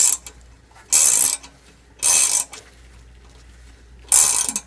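A ratchet turns a stud extractor on a rusted exhaust stud of a Toyota, giving three loud, close bursts of rapid clicking separated by quiet pauses.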